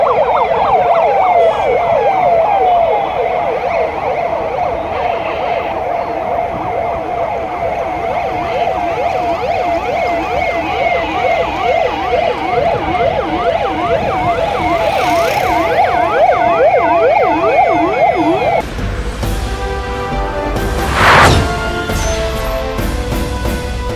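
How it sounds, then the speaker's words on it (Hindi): Dozens of police vehicles sound their sirens during a flag march through city streets, loud wailing and yelping tones sweeping up and down in overlapping cycles, then shifting to a harsher, choppier siren pattern near the end. "फ्लैग मार्च में दर्जनों पुलिस के वाहन सायरन बजाते शहर के विभिन्न मार्गों से गुजरे।"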